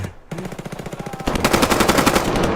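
A gun fires rapidly in the Roblox game Deadline, a fast automatic stream of closely spaced shots that comes in loud after a short pause and grows louder and denser partway through.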